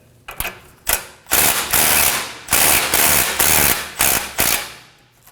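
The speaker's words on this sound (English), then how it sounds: "Using a 14mm socket, we're going to go ahead and loosen this knot." Loud, close ratcheting from a 14mm socket loosening a nut on a 2016-2020 Kia Sorento during inner tie rod work, in a series of rasping bursts about a second long separated by short pauses.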